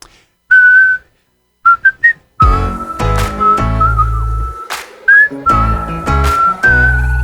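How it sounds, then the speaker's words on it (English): A person whistles a bright melody along with a song, short phrases at first and then a steady tune over loud backing music. "let's whistle a little bit"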